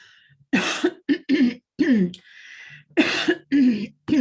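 Several harsh, close coughs in quick bursts, separated by short pauses, loud and raspy.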